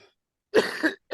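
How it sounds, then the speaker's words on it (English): A man gives a single cough that breaks into two quick bursts, followed by the start of another, close to the microphone. "Excuse me, guys, and everybody listening about this cough."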